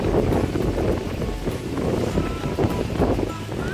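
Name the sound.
strong wind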